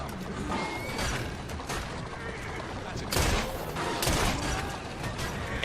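Gunfire in Assassin's Creed Syndicate, a pistol shot to an enemy's head, with two sharp reports bursting out of a dense, noisy game mix of ambience and clatter, the second shot about a second after the first.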